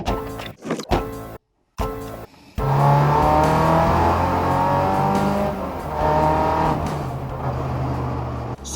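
A Ford Escort Mk2 being driven on the road, its engine holding a steady, loud droning hum with a brief gap near the start before settling into a continuous run.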